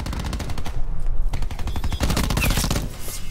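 Rapid tap-fired bursts of gunfire in a video game, loud, close, sharp reports in quick irregular clusters, with a brief lull before the shooting resumes.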